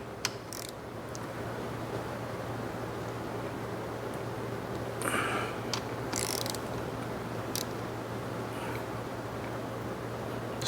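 Ratchet wrench turning a bolt another half turn during a clutch and transmission install on a 2010 Mercedes E63 AMG coupe, with scattered faint clicks over a steady background hum, then a few louder ratcheting bursts midway.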